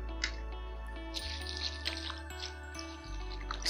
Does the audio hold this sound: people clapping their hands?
no